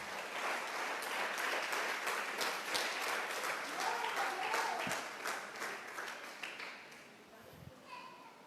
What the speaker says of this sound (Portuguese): Pode aplaudir Jesus bem forte.